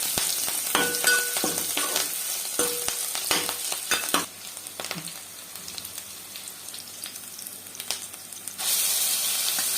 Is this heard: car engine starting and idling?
no